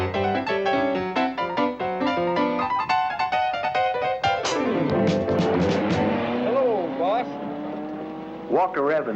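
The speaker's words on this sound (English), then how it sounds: "Hollywood stunt driver Bobby Farrow in his Sandmaster Dune buggy" A Sandmaster dune buggy driven by a stunt driver races on a desert course. The loud engine revs up and down in repeated surges, with a Doppler-shifting pass-by whine near the end.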